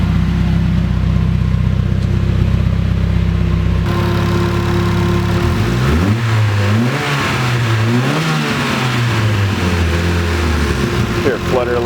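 A turbocharged KA24DET engine in a Nissan 240SX on a dyno runs loud and close, holding a steady idle before rising and falling through several revs, with voices talking underneath.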